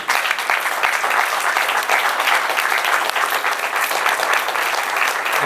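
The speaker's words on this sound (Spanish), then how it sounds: "Dale fuerte un aplauso a Jesús." A church congregation applauds loudly during worship, dense sustained clapping from many hands filling the whole stretch without letting up.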